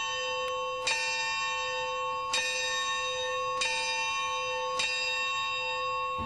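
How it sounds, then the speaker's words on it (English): A memorial bell rings at a community tribute after the West explosion, four clear, evenly spaced strikes about a second and a half apart, each leaving a long ringing decay, moderately distant, with no talk. "We pay tribute to those live by the ringing of the bell."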